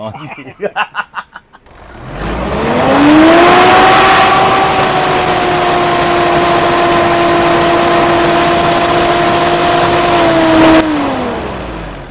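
Mitsubishi Montero engine held at a steady 2,000 RPM, a loud continuous drone with a smooth even tone throughout, rising from a brief rough start and fading slightly at the end, with no talking.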